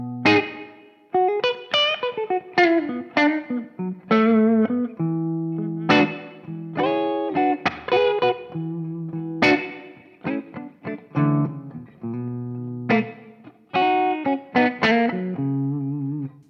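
A Les Paul electric guitar on the middle pickup position, both pickups on, runs through a Tech 21 Richie Kotzen RK5 pedal with light reverb, playing a loud, close series of picked notes and ringing chords with sustained decays and short pauses.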